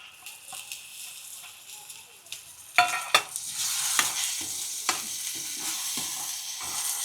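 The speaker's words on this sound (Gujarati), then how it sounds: "હવે આપણે આ વાલ બાફેલા છે એ નાખી દેવાના છે આમાં" Boiled lablab beans tumble into a pan of frying chilli-powder spices for a Gujarati val curry, landing with a couple of sharp knocks, then steady sizzling and spoon scraping continue close by.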